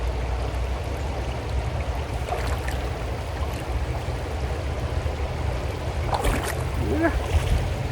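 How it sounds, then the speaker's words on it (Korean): A creek beside a campground flows steadily with a constant low rushing babble. Brief faint knocks and splashes are heard near the end. "캠프그라운드 바로 옆에 있는 시냇가로 왔는데 진짜 시원해요. 너무 좋아. 물소리도 너무 좋고"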